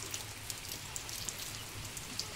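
Rain falls steadily on a surface, a soft continuous patter with scattered sharper drops, fairly quiet and alone with no talk.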